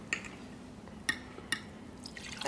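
Water is poured for someone at a table in a German audio drama, heard as a faint trickle with a few soft, sharp drips or clinks against a glass, with no talking.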